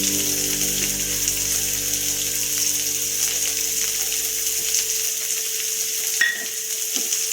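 Onion and green chili frying with salt in a pan give a steady, fairly loud sizzle with faint stirring, settling quieter near the end.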